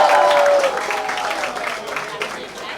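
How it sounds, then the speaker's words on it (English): A crowd claps at a public event, the applause mixed with voices talking and a whistle-like tone early on, moderately loud and gradually thinning. "Please give them a huge round of applause"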